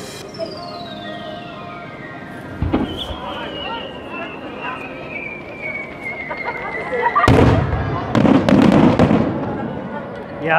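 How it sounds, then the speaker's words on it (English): Fireworks display over Lake Kawaguchiko near Mt. Fuji: several loud booming bursts and crackling volleys, densest near the end, over a steady murmur of crowd chatter. "Yeah, the fireworks have started."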